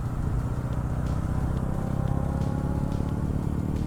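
A Royal Enfield Goan Classic 350 motorcycle engine runs steadily with a low, continuous rumble that holds even throughout, no voices heard.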